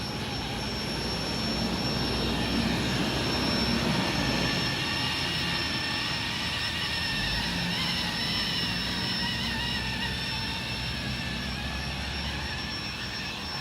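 A Blade 230S RC helicopter hovers at night, its rotor and motor whine forming a steady, close, continuous drone with a high tonal edge, holding at an even loudness throughout with no talking.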